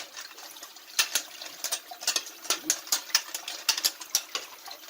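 Tap water runs into a metal strainer while freshly foraged wild mushrooms are rinsed, giving a soft, uneven clatter of droplets and splashes with sharp taps against the strainer, close and moderately quiet.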